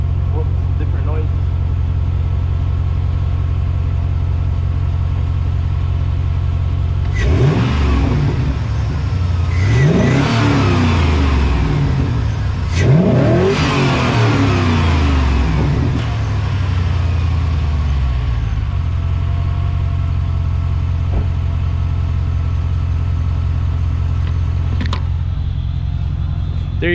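A Chevrolet Silverado SS with a 6.0 V8 and a Volant intake idles, then revs sharply two or three times from inside the cab, a raspy roar rising over the steady idle before settling back down.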